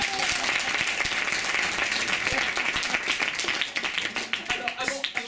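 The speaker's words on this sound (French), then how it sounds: "je vous demande un tonnerre d'applaudissements pour les Poubelles Rebelles." An audience claps steadily in a dense burst of applause that thins toward the end into scattered individual claps.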